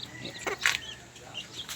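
A hen gives a few short, close clucks over a quiet background, with a sharper squawk near the middle.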